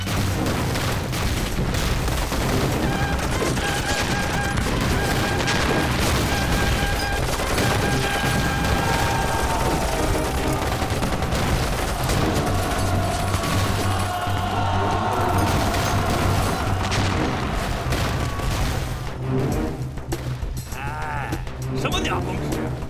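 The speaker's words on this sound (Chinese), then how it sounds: "排击炮上去，先给他来个五雷轰顶，让他知道胡爷爷的厉害。" Film battle scene with artillery fire and gunfire, a dense continuous roar of booms and rapid shots throughout, loud and layered with music and shouting voices.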